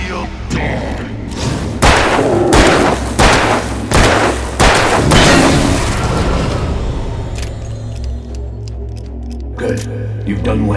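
Gunshots ring out in the video game Alan Wake as a series of heavy, booming blasts spaced a second or so apart, loud and close over a low rumbling backdrop, fading into quieter ambience near the end.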